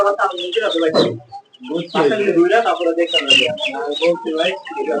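Dense bird chatter with clucking and cheeping from many chicks fills the space at a bird market in Demra, Dhaka, and human voices are mixed in.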